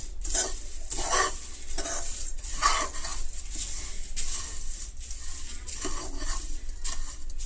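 A spoon scrapes and stirs a poha (flattened rice) mixture snack in a pan, making a steady run of close, repeated scraping and clattering strokes with no talk.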